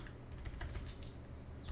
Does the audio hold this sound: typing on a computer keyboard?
yes